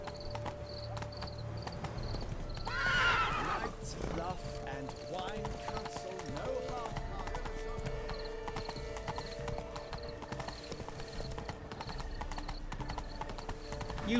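A horse gallops in Witcher 3, its rhythmic clip-clop hooves continuing throughout, with a whinny near the start and a voice talking over the game sounds at moderate level.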